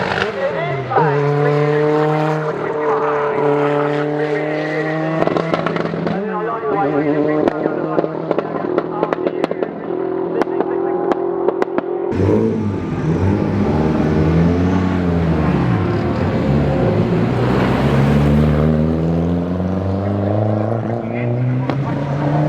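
Group A and World Rally cars racing at Castle Combe rally day, engines roaring loud and close with rising and falling revs, gear changes and pops, a second car passing midway, continuous and dense.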